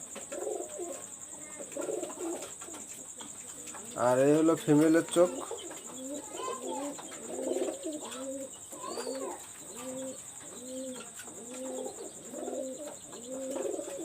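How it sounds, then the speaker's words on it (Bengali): A pair of golden pigeons coo in a close, repeated series of soft, rolling calls, with someone speaking briefly partway through. "আমি এখন এক পেয়ার গোল্ডেন কবুতর দেখাচ্ছি"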